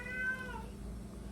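A single cat meow, fairly close and short, drawn out briefly before fading into a low background hum.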